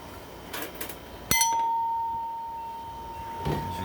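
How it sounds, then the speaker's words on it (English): An old Milton driveway bell from a gas station rings once with a sharp metallic strike, and a clear tone lingers and slowly fades. Fainter knocks come before the ring and another soft clunk follows near the end. "And this is a Milton Driveway Bell."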